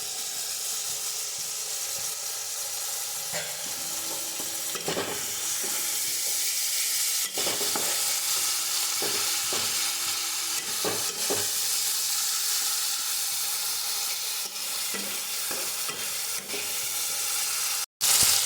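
Ghugni masala with tomato sauce and a pinch of sugar fries in a pan, its continuous loud sizzle broken by repeated scraping clicks of a spatula stirring, with no voices and a sharp knock at the very end.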